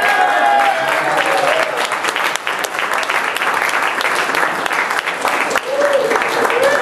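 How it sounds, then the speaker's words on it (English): Audience applause at an awards event honoring a film producer, a loud sustained burst of clapping from a crowd that carries on steadily with scattered voices mixed in. "Can we have some applause?"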